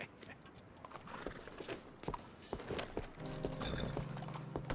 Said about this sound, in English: You got a horse? Get on it.